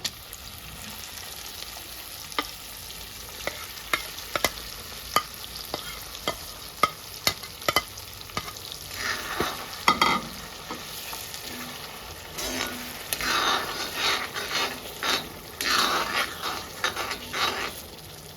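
Eggs fry in a pan with crushed onion and chili paste, a spatula tapping and scraping in a steady run of close knocks, then louder sizzling and stirring builds in the second half, no talk.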